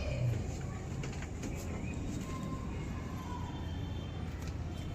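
Dumeri pigeons kept in a loft cooing softly: low, muffled coos near the start, set against a constant steady background hum with no clear talk.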